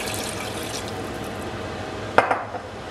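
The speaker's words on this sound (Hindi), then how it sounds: "तो इनमें मैं पानी ऐड कर दूँगी" Water is added to a cooking pot of turnips and meat for a shaljam gosht curry, a steady pouring and filling wash with a sharp clink of pot or utensil near the end, close and moderately loud.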